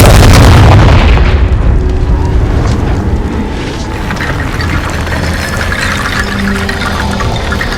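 The Confringo spell explodes in Hogwarts Legacy, a loud deep boom at the start that fades into a rumbling, crackling tail.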